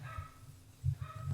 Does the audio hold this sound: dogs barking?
yes